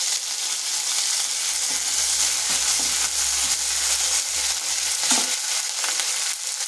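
Ginger-garlic paste hits hot oil with a bay leaf and dried chilli over a low flame, giving a steady bright sizzle with soft stirring scrapes throughout and no talk.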